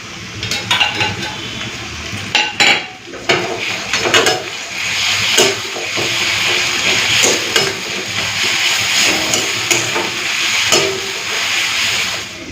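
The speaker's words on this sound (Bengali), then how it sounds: "পোস্ত বাটাটা দিয়েও কিছুক্ষণের জন্য একটু ভেজে নেব।" Poppy seed paste frying with browned onions in a pan, a loud steady sizzle and hiss broken by the scrape and clatter of stirring against the pan.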